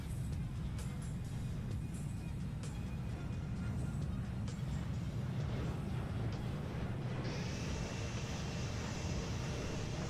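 Jet engine roar of an E-Jet airliner in Microsoft Flight Simulator, a steady broadband rumble that holds loud throughout and brightens with a rising whine near the end, no talk over it.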